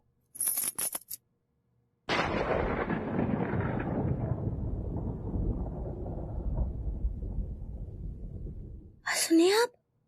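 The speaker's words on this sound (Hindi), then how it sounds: "बादल गरजने का बात कर रहे हैं" A long rolling rumble of thunder during the rainy monsoon season swells suddenly and then fades slowly over about seven seconds. Brief clinks come before it and a short bright sound after it.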